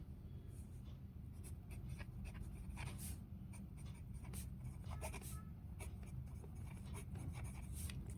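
A pen writes on paper during a maths lesson, producing faint, quick scratching strokes in an irregular rhythm over a steady low background hum.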